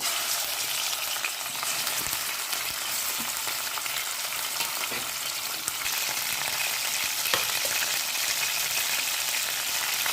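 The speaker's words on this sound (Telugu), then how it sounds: "ఆయిల్ హీట్ అయిన తర్వాత ఫస్ట్గా చికెన్ వేసేస్తున్నానండి" Chicken pieces frying over a high flame in hot sesame oil, a dense steady sizzle running throughout with occasional faint clinks and stirring scrapes, close and fairly loud.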